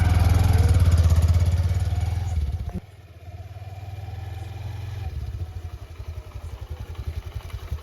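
A motorcycle engine rumbles nearby, loud at first, then dipping briefly before settling into a steady idle with a rhythmic, putt-putt pulse that continues to the end.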